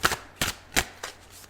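Four quick riffling bursts of tarot cards being shuffled, evenly spaced, close and crisp with quiet pauses between.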